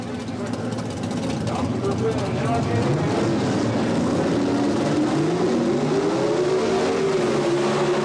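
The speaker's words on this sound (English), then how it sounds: "These are two gas coupe sedan cars." Two gas coupe and sedan drag racing cars launch side by side in a sportsman class at the 1977 NHRA Springnationals, a loud continuous engine roar rising in pitch as they accelerate, with an announcer talking over it.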